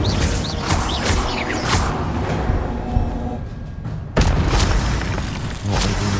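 Incendio fire spell cast in Hogwarts Legacy during Percival Rackham's Trial, dense roaring bursts and whooshing blasts layered with game effects, a sudden cut and renewed burst partway through, loud and continuous.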